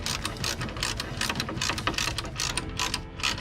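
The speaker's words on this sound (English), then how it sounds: "I am tightening up the AC condenser again up here." A ratchet clicks quickly and repeatedly while bolts are tightened on an AC condenser during a radiator swap on a Cadillac CTS-V, the quiet mechanical ticking rapid and uneven, with no talking.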